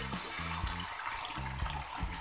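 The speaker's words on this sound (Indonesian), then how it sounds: "Dan tuangkan santan." Coconut milk pouring into a pan of spicy shrimp curry, a steady broadband liquid rush with faint clinks, moderately loud and continuous without talk.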